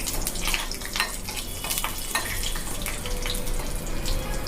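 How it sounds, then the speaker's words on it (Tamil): Dried turkey berries (sundakkai vathal) fry in hot oil for a South Indian buttermilk curry, giving a steady, close sizzle with crackling pops throughout and no talk. "இது கொஞ்சம் நல்லா வறுப்படணும்."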